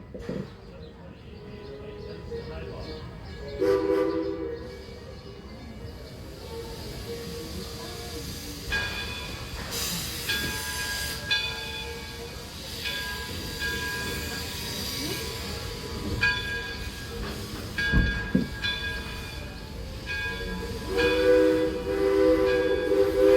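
Rumbling cars of the Greenfield Village Railroad roll along with rattling, clanking and occasional wheel squeals, a steady moving-rail noise throughout with birds chirping faintly in the background.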